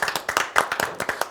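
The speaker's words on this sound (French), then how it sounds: "On applaudit, on applaudit." An audience clapping in a quick, fairly even rhythm, a short run of sharp, close claps.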